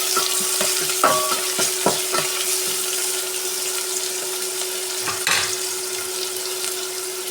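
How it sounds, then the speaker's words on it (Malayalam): Onion sautéing in a pot crackles with a continuous close sizzle, broken by a few scraping knocks of the stirring spoon. "സവാള ഇട്ട് വഴറ്റി കൊടുക്കാം."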